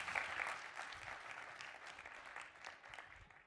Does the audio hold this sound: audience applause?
yes